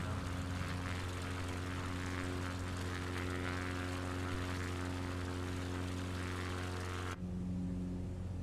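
X-Cub Tundra propeller engine in Microsoft Flight Simulator drones steadily and loudly, a humming buzz with strong low tones that holds for about seven seconds, then its tone abruptly shifts and thins near the end.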